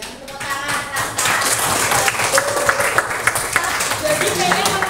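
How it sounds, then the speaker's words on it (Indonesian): A group of schoolchildren and their teacher clapping hands together in a classroom, a rapid, fairly loud patter of claps mixed with voices talking over it. "Oke, kami tepuk tangan."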